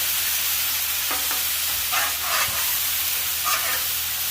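Burgers sear loudly in butter on a hot two-zone Monument grill, a constant hiss with occasional sharper crackles and pops, no talking.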